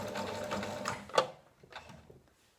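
A sewing machine runs briefly as it stitches Teeswater wool locks onto a weft strip, a close mechanical whir that ends with a sharp clack and then a faint settling sound.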